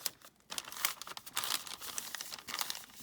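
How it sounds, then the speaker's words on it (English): Paper junk journal pages being folded, with close, loud crinkling and rattling in irregular bursts after a brief quieter start and no talking. "Sorry for all the rattling."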